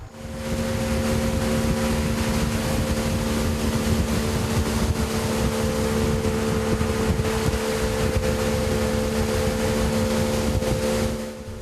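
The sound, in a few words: boat ride over waves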